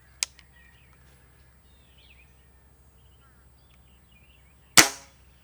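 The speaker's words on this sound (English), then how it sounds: "it's not that loud of an air gun, and any noise that does come from this rifle comes from its coil spring power plant." A single sharp crack from an Air Arms ProSport .22 coil spring air rifle firing outdoors, with a faint small click near the start, the shot fairly loud and close against a quiet background of distant birdsong.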